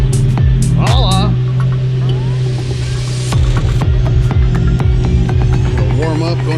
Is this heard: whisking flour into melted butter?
no